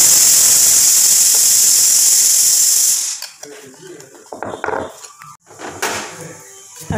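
Fish fritters are laid into hot oil in a wok and sizzle with a loud, bright hiss for three seconds. The hiss then drops to softer crackling and clinking of utensils.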